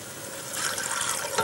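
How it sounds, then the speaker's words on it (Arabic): Broth pours into a pot of eggplant stew with cooked meat pieces, a close, steady liquid splash that swells slightly toward the end, with no talking. "حبتدي أضيف المرق."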